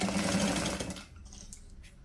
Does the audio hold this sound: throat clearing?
no